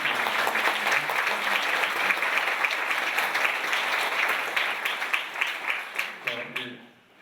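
A church congregation claps to welcome an elder and his wife during an evening revival service, steady applause that thins into scattered individual claps before fading, with a voice at the end.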